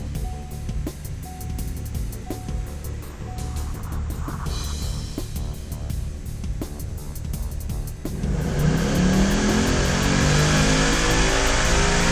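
Car engine on a dyno, first a steady lower drone with faint ticking, then after about eight seconds a sudden surge to a loud, broad, rising roar as it accelerates toward a 7,000 RPM redline.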